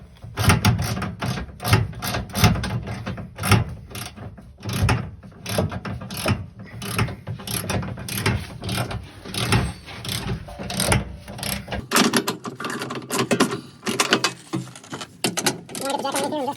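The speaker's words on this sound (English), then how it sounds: "start bolting it back together" Ratchet clicking rapidly as bolts are tightened while a diesel fuel tank is reassembled, bursts of ratcheting strokes close up with short pauses between them and a faint voice in the background.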